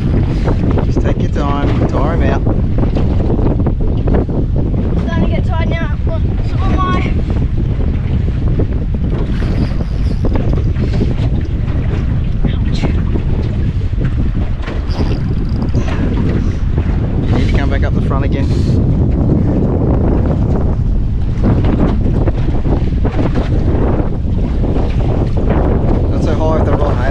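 Strong wind buffets the microphone aboard a small fishing boat out on open water in the Whitsundays, a constant loud roar with water slapping underneath and brief voices breaking through.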